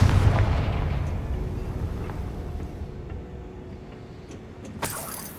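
Fiery spell blast in the Hogwarts Legacy video game: a heavy explosive boom at the start decaying into a long rumbling tail, followed by a sharp crack near the end.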